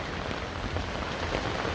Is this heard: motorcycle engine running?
no